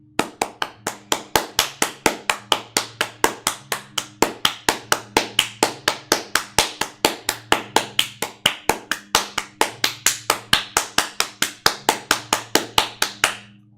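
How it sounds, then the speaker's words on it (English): Live-stream applause: a single pair of hands claps steadily and closely, about four claps per second, sharp and loud, with no voices over it. "give yourself a random applause"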